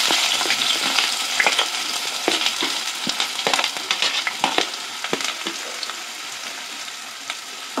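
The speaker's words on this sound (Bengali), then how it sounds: "তো এর মধ্যে আমি এবার দিয়ে দেব পেঁয়াজ কুচি।" Chopped onion sizzles in hot oil in a kadai, a steady bright frying hiss with frequent crackles and pops from stirring, close and loud, with no voices.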